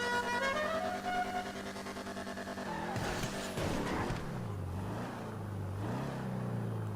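An off-road car engine in GTA V drones in a steady high pitch, then revs and shifts, the tone dropping and wavering as the vehicle slows and rises again.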